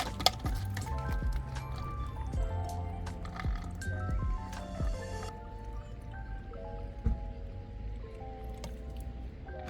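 Water poured into a car engine's coolant reservoir, with soft squishing, dripping and liquid trickling sounds close by over several seconds, a few sharper drips standing out, and no talking.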